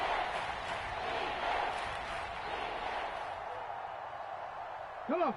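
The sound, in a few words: stadium crowd cheering in an American football video game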